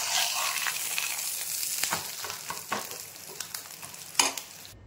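Leftover roti frying in oil like a paratha, a close, steady sizzle broken by repeated scrapes and taps of a spatula against the pan, with no talking.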